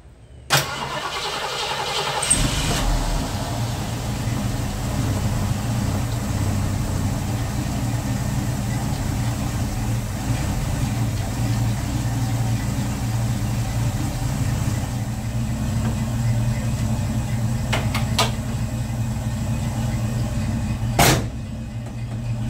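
A 1976 Ford Maverick engine cranks and catches after a couple of seconds, then settles into a steady, rumbling idle that runs near and loud, with a few sharp clicks and knocks near the end.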